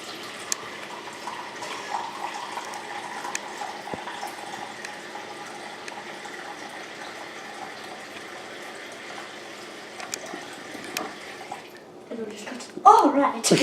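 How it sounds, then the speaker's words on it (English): Water runs steadily into a bowl in a home kitchen, a soft continuous gushing that lasts several seconds before a brief louder burst near the end. "now that we have added water to our bowl"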